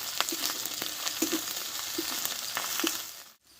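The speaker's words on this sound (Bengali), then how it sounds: "একটু ভালোভাবে কষে নেব আমি" Boiled potato and cauliflower with garlic sautéed in a pan, a continuous close sizzle with a soft scraping stir every half second or so, stopping abruptly at the end.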